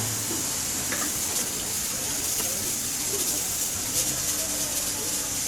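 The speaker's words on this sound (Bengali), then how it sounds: "এর মধ্যে পানি দিয়ে বেশি না মোটামুটি জাস্ট যাতে ডুবে থাকে" Water pours into a pan of fried ash gourd, a steady loud rushing hiss with faint sizzling that continues evenly throughout.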